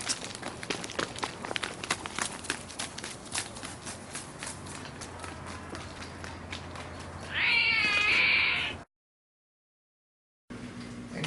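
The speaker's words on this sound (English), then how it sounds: "Alley cat!" An alley cat gives one loud, drawn-out meow that lasts about a second and a half. It comes after a stretch of light scuffling and clattering footsteps, and then the sound cuts to silence.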